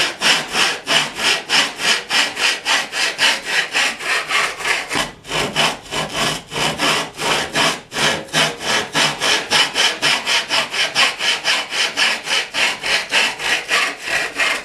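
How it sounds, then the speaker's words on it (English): A handsaw cuts wooden uprights for a drink tote that holds bottles, a long run of rapid, even back-and-forth rasping strokes, close and loud, with one brief pause midway and no talking. "we're going to go ahead and cut the little hold up uprights to hold the bottles in place"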